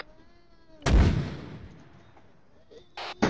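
A single heavy mortar shot booms loudly in a video game and decays into a fading rumble, followed by a couple of short, sharper bursts near the end.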